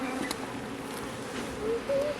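Honey bees buzzing in an opened beehive during an inspection, a steady close droning hum with a few louder passes near the end.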